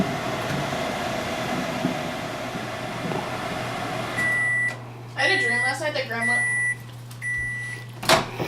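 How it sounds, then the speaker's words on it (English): A kitchen microwave oven hums steadily while cooking potatoes, then emits a series of short, bright, evenly spaced beeps near the end, with a person talking over the beeping. "Put it in the microwave."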